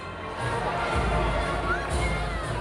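A large crowd of over a thousand people cheering and waving flags as East Tennessee veterans return from an HonorAir flight to Washington: a steady, broad roar of voices and shouts that swells slightly midway.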